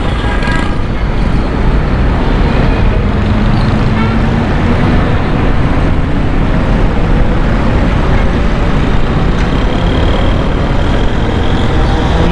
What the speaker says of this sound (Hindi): बहुत ज़्यादा रश हो जाता है ट्रैफिक का।